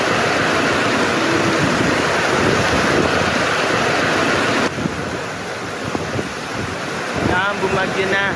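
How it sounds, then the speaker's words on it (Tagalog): Big ocean waves from a super typhoon at Sitio Matabang, Abra de Ilog, a loud continuous roar of surf mixed with heavy wind buffeting the microphone, easing slightly partway through, with a faint voice near the end. "Solid yung alon dito."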